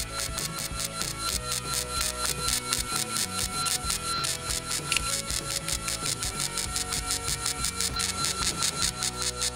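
Sanding inside a car body being prepped for paint makes a dense, steady rasping scrub. Quick back-and-forth strokes repeat rhythmically without a break, loud and close, with no voices.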